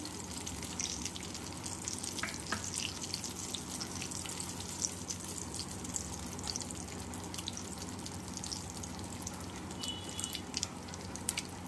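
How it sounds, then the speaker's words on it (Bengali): Dried red chili and radhuni frying in oil for tempering, an even, close crackle and fine hiss running steadily throughout with small popping ticks, no voices. "ফোড়নে করে শুকনো লঙ্কা মাঝখান দিয়ে ছিঁড়ে দিয়ে দেবো দিয়ে দেবো একটু রাঁধুনি"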